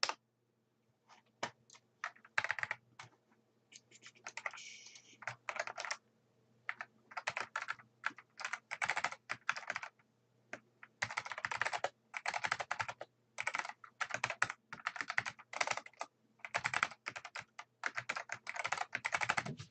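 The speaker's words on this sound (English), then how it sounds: "He's got the original IBM PC clicky keyboard," An original IBM PC clicky keyboard is typed on in bursts, its sharp mechanical key clicks coming in quick runs separated by short pauses, close up and with no talking.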